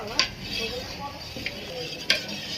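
A spoon stirs mixed vegetable paneer korma in a cooking pot, with a few sharp scraping clicks against the metal over a soft, steady sizzle.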